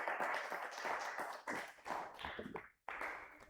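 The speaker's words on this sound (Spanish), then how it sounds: "Un fuerte aplauso al Señor" Church congregation clapping together, a brisk, rhythmic burst of applause that cuts off briefly near the end before resuming, fairly faint overall.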